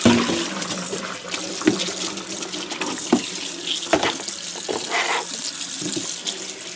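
Water runs steadily from a sink tap as a tie-dye shirt is rinsed under it, with irregular splashes and thuds from handling the wet fabric and no one speaking.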